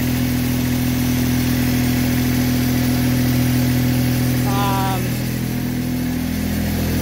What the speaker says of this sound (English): That's that starter has been damaged from that overcompressing cylinder. So we're spinning pretty good.